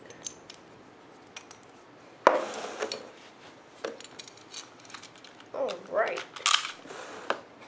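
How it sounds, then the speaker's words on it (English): Dark Cancer and Dark Bull Beyblade spinning tops clash in a battle, giving sharp metallic clicks and scraping bursts followed by quick rattling collisions, fairly close over a quiet room. "now we're going to do a battle of Dark Cancer and Dark Bull"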